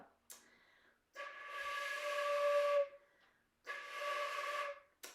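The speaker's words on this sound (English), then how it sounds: "This is a very old flute." Two long, breathy tones from a very old flute with a hissy, airy edge, separated by a short pause, played alone and fairly close.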